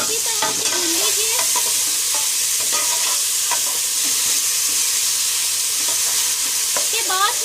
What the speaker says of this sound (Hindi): अब मैं इसमें ऐड कर रही हूँ जिंजर गार्लिक पेस्ट और अचार, और इसको अच्छी तरह से भून लीजिए।